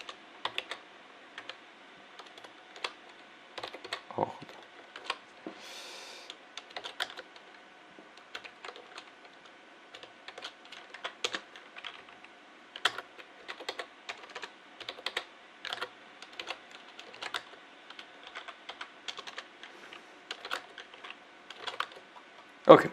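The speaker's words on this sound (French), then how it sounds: "je vais écrire le morceau de code" Rapid typing on a computer keyboard while entering Python code, with irregular bursts of close, crisp key clicks running throughout and no talk over them.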